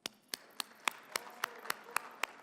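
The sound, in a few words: audience applause for the panelists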